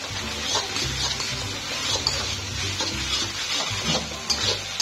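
Chopped onion frying in oil for egg and prawn fried rice: a soft, steady sizzle with occasional stirring scrapes and a faint low hum behind it, moderately close.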